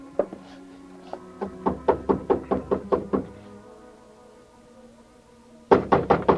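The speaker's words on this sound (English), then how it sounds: "climbed the stairs, and knocked on her door." Knuckles rap on an apartment door in an old-time radio drama, a rhythmic series of about a dozen close, sharp knocks, a pause, then another quick cluster of firmer raps.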